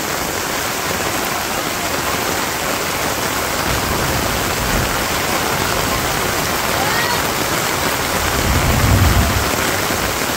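Heavy afternoon downpour in a Bangladeshi village, a dense, steady hiss of rain falling nearby with a soft low rumble swelling near the end.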